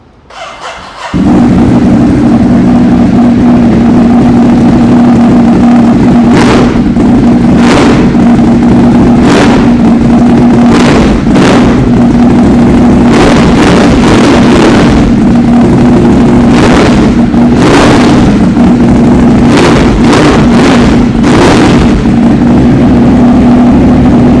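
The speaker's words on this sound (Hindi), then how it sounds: "with this टर्मी गिनोनी exhaust this engine sounds actually very very good" Superbike engine fitted with a Termignoni exhaust starting up and then idling with a loud, deep, steady rumble, punctuated by a series of sharp throttle blips and revs, close and very loud throughout.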